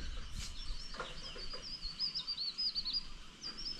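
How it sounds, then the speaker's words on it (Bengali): Faint, high bird chirps repeat over a quiet outdoor background in the hill village of Jhandi, North Bengal, with a thin cricket trill running softly underneath. "খালি আমি পাখির আওয়াজ, ঝিঝি পোকার ডাক এগুলোই শুনছি"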